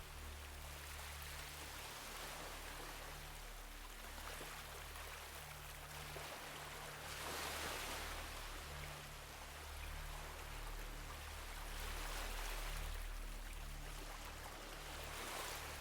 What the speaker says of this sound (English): listen to the soft curl and sigh as the soft wavelets break and withdraw